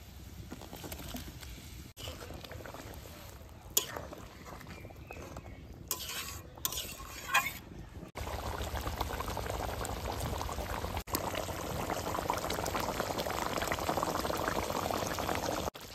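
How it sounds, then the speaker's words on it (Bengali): Fish pieces go into a simmering yogurt gravy for doi katla, with a steady close bubbling boil, a few clinks and stirs, and the simmer growing louder and fuller partway through. "এখন মাছগুলো দিয়ে দেবো।"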